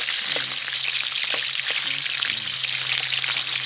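Pork sizzles steadily in hot fat as it renders down into cooking oil, a continuous bright crackle with occasional stirring clinks and low background hum, close up and without speech.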